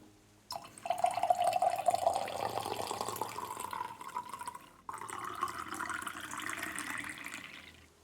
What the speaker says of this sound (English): let me pour my tea